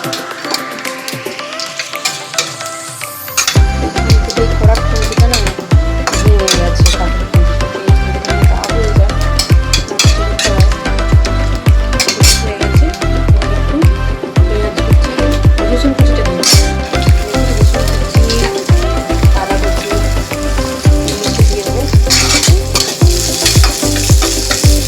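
Whole spices such as fennel, black pepper, cloves, cardamom and bay leaf frying in hot oil for a paneer masala, a steady loud sizzle and crackle running continuously with stirring clatter throughout, no talking.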